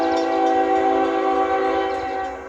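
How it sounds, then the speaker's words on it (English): A Norfolk Southern locomotive sounds its horn at a level crossing, one loud sustained chord lasting the whole moment, close by and fading slightly at the end. "You guys know this is my favorite horn anyways."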